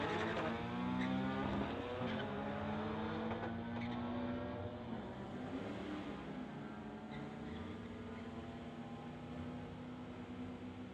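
Honda and BMW street-legal cars drag racing side by side down a strip, a sustained engine roar with strong harmonic tones, loud at first and easing slightly as the run goes on.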